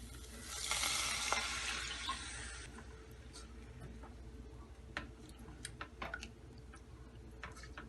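Milk pours into a hot pan of achwani with a brief rushing hiss that fades after a couple of seconds, followed by soft bubbling and scattered light ticks and clicks, close by with no voices.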